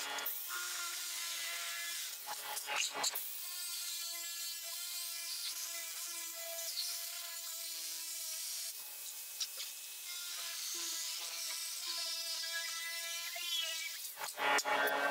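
A power tool cuts a flexible pattern for a car fender along its outer edge, a steady whining buzz with tonal harmonics that runs almost continuously, broken by short rasping bursts near the start and end.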